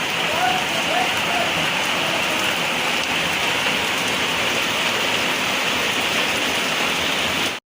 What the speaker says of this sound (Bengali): এই কি বৃষ্টি হচ্ছে দেখো